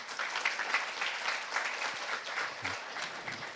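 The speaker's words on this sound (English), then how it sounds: "Let us give a big applause to him." Forum attendees at the Jeju Forum applaud a former ambassador and vice foreign minister, a fairly quiet, steady patter of clapping from a seated audience lasting a few seconds.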